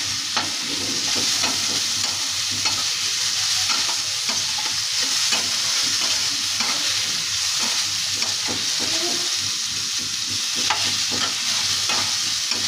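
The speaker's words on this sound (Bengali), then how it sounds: "আর এটা উচ্ছে কুমড়োটা ভাজা করছি" Bitter gourd and pumpkin fry in a pan with mustard seed tempering, a continuous loud sizzle carrying through with repeated scraping and stirring clicks of a utensil, no talking.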